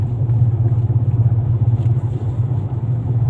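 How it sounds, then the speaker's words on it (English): A car and a motorcycle pass on a quiet road in Bohol, heard as a low, fluttering engine rumble with slight swells, close by and steady over a few seconds. "You can see nothing in front of me, one motorcycle, one car coming."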